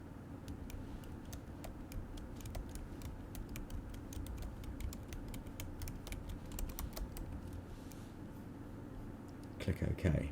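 Quick, irregular keystrokes on a computer keyboard clatter steadily at close range over a low background hum, ending in a brief burst of louder clicks.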